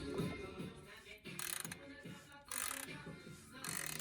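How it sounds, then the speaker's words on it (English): A 3/4 inch ratchet turns a tool to tighten the oil filter housing on a 2013–2017 Toyota Prius, giving several close, loud bursts of rapid clicking separated by short pauses. "tightening up our oil filter housing with the appropriate tool and the 3/4 inch ratchet"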